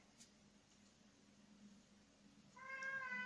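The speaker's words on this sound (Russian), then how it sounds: "кот тут у нас разговаривает" A house cat meows once, a short faint call near the end after a quiet stretch of room background.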